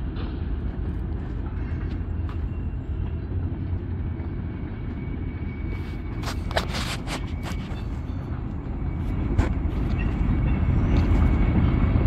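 Freight trains with locomotives passing near Barstow and Daggett: a continuous heavy rolling rumble of railcars, fairly close and loud, with scattered metallic clanks and squeals, no voices.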